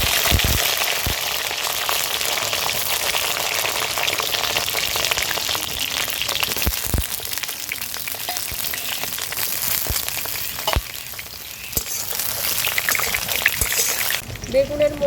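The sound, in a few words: eggplant frying in a pan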